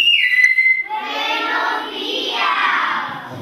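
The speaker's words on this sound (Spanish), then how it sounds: "y así empecé a silbar" A man whistles in Silbo Gomero, the whistled language of La Gomera: a loud, close, piercing run of sliding, modulated whistle tones lasting a few seconds, with nothing else heard.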